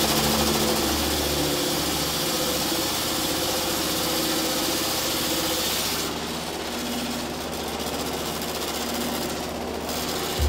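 An old, worn corn flour mill machine runs with a loud, continuous mechanical drone and rattling vibration, steady from start to finish.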